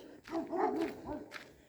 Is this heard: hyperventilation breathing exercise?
no